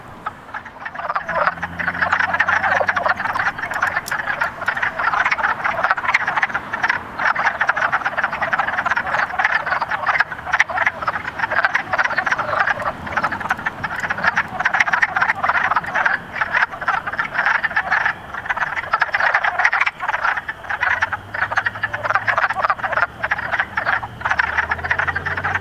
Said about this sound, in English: all these wood frogs have gotten used to me.